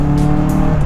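A stock-engined 2000 cc Honda Civic FD styled as a Type R, taking a corner under acceleration with a steady loud engine drone and tyre squeal, heard from inside the car without speech.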